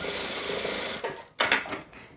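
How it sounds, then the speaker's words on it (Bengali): A sewing machine stitching a half pant runs with a fast, steady whirring hum, then stops, followed by a short sharp clack and rustle of fabric close by. "এরপর এই যে এটার মাঝখানে আরেকটা সেলাই নিয়ে আসতে হবে"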